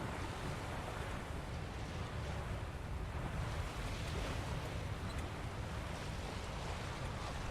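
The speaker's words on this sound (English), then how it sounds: "Ocean waters." Ocean waves in The Witcher 3: Wild Hunt wash in as a soft, steady surf with a faint breezy hiss, quiet and unbroken with no voices.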